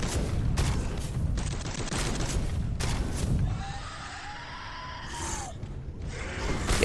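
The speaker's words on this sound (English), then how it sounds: "there's the rocket launchers up there" Rocket launchers and guns fire in Space Hulk: Deathwing as a rapid cluster of loud, sharp bursts, then a quieter stretch with a whining tone before more blasts.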